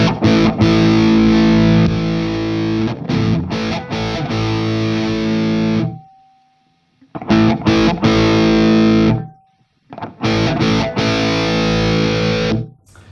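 Electric guitar played through a 1977 Marshall JMP amp with Gower Killer Kali mods and the saturation switch engaged, loud distorted chords ringing in three bursts with short gaps where a faint hum remains.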